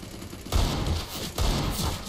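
Gunfire in Counter-Strike: Global Offensive, with a UMP submachine gun in use. Two loud, dense bursts of shots sound up close, separated by a short gap, with no talk.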